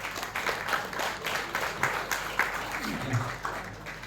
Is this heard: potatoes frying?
no